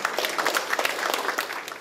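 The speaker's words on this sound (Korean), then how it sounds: "모두 큰 박수로 환영해 주시기 바랍니다." An audience at a Korean district community forum on restoring an urban stream applauds, with steady clapping from many hands filling the hall and fading slightly at the end.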